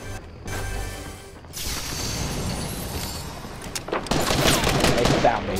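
Gunfire in the video game Fortnite is aimed at the player: loud, sustained bursts of rapid shots and crackling impacts roll on without pause and grow denser and harsher toward the end.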